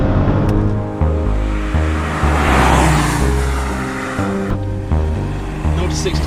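Small low-powered Smart Roadster engine droning steadily while driving through corners, with harmonic engine tones shifting as the car holds the road; a voice talks over the engine throughout.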